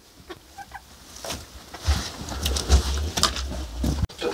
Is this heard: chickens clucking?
yes